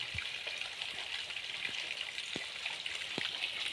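Water trickling and flowing through a pipeline channel on a village farm, a steady close hiss with scattered small drips and splashes, no voices.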